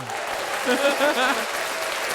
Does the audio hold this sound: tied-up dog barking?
no